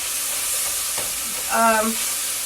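Onions frying for fajitas, a steady loud hissing sizzle in a hot pan with brief stirring scrapes and a faint clink.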